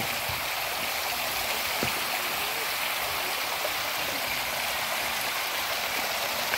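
Steady rushing water from a park fountain system, a broad continuous splash and hiss that stays even and close throughout with no voices.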